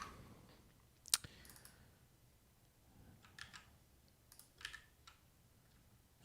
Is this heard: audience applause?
no